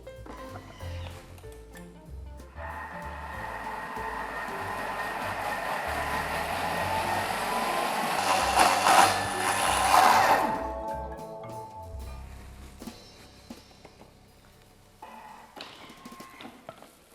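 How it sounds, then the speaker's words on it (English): A Thermomix blending a paste at speed 8 for one minute, a loud steady whirring roar that builds and grows harsher near the end, then winds down and stops, close and alone with no talk. "I'll use the blend function to blend it for 1 minute at speed 8"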